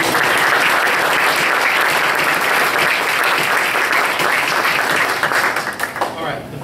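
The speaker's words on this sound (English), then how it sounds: "give a round of applause to the parents who are here tonight" Sustained applause from parents and guests at a school board meeting, a dense, steady wash of clapping that holds for most of the stretch and then thins and tapers off near the end.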